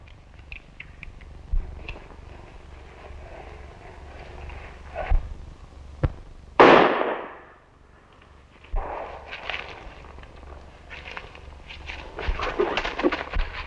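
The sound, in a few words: gunshot in a western movie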